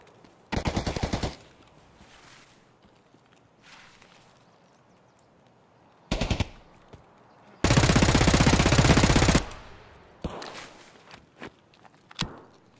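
Bursts of automatic gunfire in a video game, with several short loud volleys, a longer sustained stream of fire, and scattered single shots and footsteps in between.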